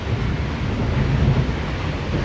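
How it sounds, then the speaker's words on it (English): Heavy rain heard from inside a dark cave, a dense continuous roar of falling water with a deep rumbling undertone, steady and enveloping. "you hear all that rain?"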